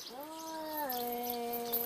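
A kitten gives a single drawn-out, rising-then-falling meow, fairly faint and alone against quiet room background.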